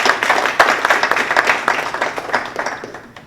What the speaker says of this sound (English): Please, please give them another round of applause.